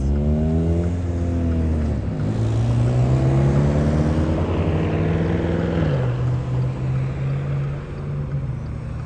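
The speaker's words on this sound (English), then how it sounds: "Here we are driving through the Eisenhower Elementary School neighborhood." A car driving through residential city streets in Flint, Michigan, in January drones steadily close by, its engine tone rising and falling with shifts in speed, with no one speaking.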